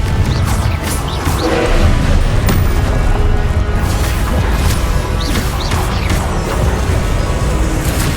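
The Confringo fire spell cast in Hogwarts Legacy, loud booming blasts and crashes in dense battle chaos, repeating over several seconds.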